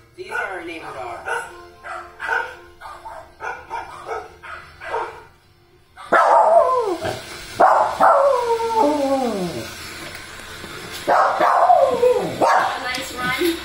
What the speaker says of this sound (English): I thought I'd share who you see barking at us all the time when we go by.